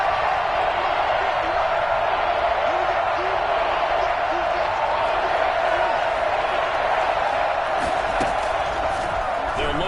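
Crowd noise fills a football stadium during a playoff game, a steady loud roar that swells slightly near the end, with a commentator talking over it.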